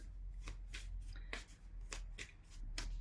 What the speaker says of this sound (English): I don't want to shuffle them in an ugly way, because I have long nails